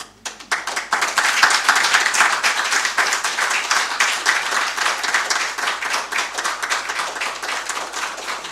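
An audience at a formal national economic dialogue report ceremony gives the chairman and committee sustained, dense applause that swells after a quick start and continues steadily.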